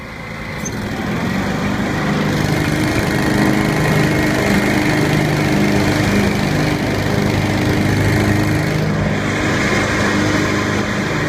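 Lawn tractor with freshly sharpened blades, its engine starting up and settling into a loud, continuous drone close by, steady throughout without speech.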